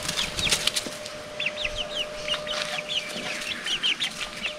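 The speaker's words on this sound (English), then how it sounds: "I love chickens." Chickens cluck and chatter softly in repeated bursts, with scattered clicks and light rustling from a flock nearby in the Sunshine Coast Hinterland, Queensland, Australia, no voices.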